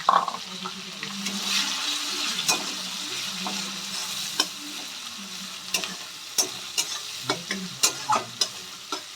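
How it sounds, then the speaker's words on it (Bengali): Thinly sliced onions fry in oil in a cooking pan, giving a continuous close sizzle broken by sharp scraping clacks from stirring that grow more regular toward the end, with no voices. "এবার আমি কেটে রাখা পাতলা পাতলা করে পেঁয়াজগুলো দিয়ে একটু গোল্ডেন ব্রাউন হওয়া পর্যন্ত আমি ভেজে নেব।"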